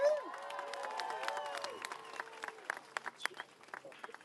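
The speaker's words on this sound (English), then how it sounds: "Give another round of applause for Abir" A crowd at a pro-Palestine rally applauds and cheers, with raised voices and whistles early on, then the clapping thins into scattered, fading claps.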